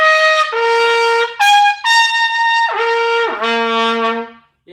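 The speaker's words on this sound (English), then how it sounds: "I'm playing this on the gravity trumpet" Gravity trumpet playing a sequence of sustained, clear tones that step between pitches, each held about a second, some sliding down, close and loud with no talk.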